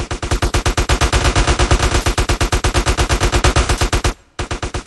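M4 rifle in GTA San Andreas fires loud, rapid automatic bursts in a fast even rhythm, with a brief pause near the end before the shooting resumes.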